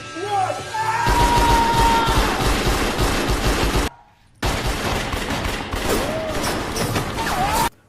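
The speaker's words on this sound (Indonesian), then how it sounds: "Mereka berdua lalu melepaskan tembakan ke arah musuh" Dense, sustained bursts of gunfire fill the clip, cutting out briefly midway before resuming, with loud crashes and shouting voices mixed in.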